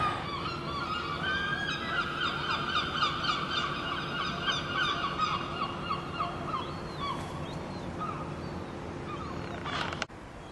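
A flock of geese honks continuously at close range, calls overlapping in a noisy chorus, ending with a sharp click.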